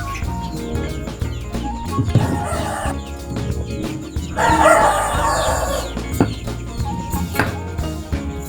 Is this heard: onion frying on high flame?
no